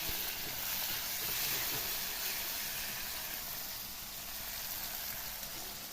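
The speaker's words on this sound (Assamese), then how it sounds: "ইয়াতে অকমান বিলাহী দি দিছোঁ কাটি পেলাই এইখিনি অকমান ভাজি ল'ম" Steady, loud sizzling of chopped tomatoes frying in a pan, a continuous hiss with faint stirring, no voices.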